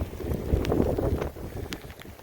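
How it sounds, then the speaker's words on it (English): Gusty wind buffeting the microphone outdoors while crabbing in the rain, a loud rumbling roar that swells and fades over a couple of seconds. "Wind's getting me too now"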